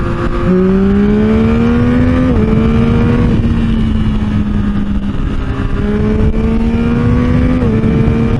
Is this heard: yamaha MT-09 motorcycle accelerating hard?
yes